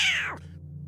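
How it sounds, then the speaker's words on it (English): A cat, shaken up during an earthquake, lets out one short, close meow that slides downward in pitch and fades quickly. "This cat was clearly shaken up. You could hear it."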